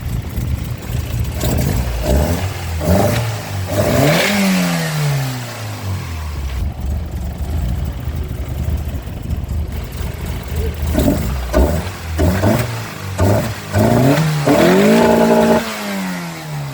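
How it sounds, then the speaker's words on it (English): A Toyota AE82 with a 4A-GE twin-cam engine and wide exhaust running close by, misfiring with a rough, uneven idle, its revs surging and dipping irregularly as if stumbling, with no talking. "she's idling erratically and she is missing."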